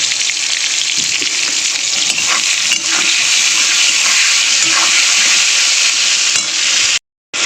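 Chopped tomatoes hit hot oil with nigella seeds in a pan for fish curry, giving a loud, steady, close sizzle that runs without pause before cutting out briefly near the end.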